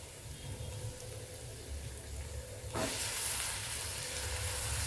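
Chopped, washed vegetables drop into a hot pan for veg pulao, setting off a sudden loud sizzle and hiss partway through that stays steady after a quieter stretch of low pan noise.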